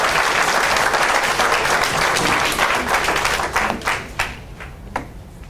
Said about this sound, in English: please give the middle college graduates a round of applause for their tremendous achievement